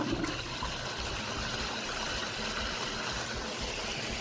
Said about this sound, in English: We'll start the water pump now.